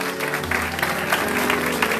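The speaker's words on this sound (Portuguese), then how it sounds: "Aplaude o Senhor Jesus, igreja" A church congregation keeps up dense, continuous applause during a worship service, loud and close, mixed with a sustained musical or vocal tone underneath.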